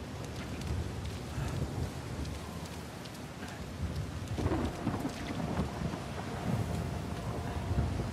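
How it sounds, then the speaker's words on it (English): Heavy rain and rumbling thunder in the video game Uncharted 4, a steady dense downpour with low rolling thunder swelling through it, wind buffeting now and then, no voices. "I don't mind a bit of rain, but man, is this a bit of rain?"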